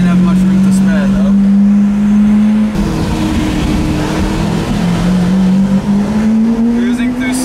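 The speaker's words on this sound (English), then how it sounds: "Cruising through small Monegasque roads in an Aventador and a P1." A Lamborghini Aventador drives slowly along narrow Monaco streets, its engine a steady, loud drone that shifts pitch midway, with a faint tire note and voices talking over it throughout.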